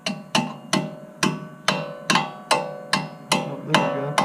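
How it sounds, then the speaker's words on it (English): A hammer drives an MGP caliper cover onto a Ford Focus ST brake caliper with about ten evenly spaced, ringing metallic blows, each decaying briefly, close and alone. "I'm gonna have to hammer it on with our handy dandy hammer."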